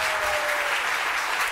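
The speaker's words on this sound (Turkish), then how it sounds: "alkışlarla ablan Şerife Hanım stüdyomuza gelecek." Studio audience of a Turkish daytime talk show applauding steadily, a dense, even wash of clapping lasting about a second and a half.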